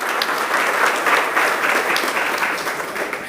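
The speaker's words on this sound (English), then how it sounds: "Please appreciate our PS with a round of applause as you sit down" Steady applause from a seated audience at an official flag-off ceremony, loud and continuous for a few seconds, with no voices over it.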